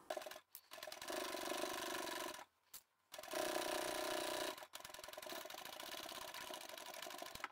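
A sewing machine runs in steady whirring bursts while back stitching through a quilted fabric bag, with brief pauses between the close, even runs of needle chatter.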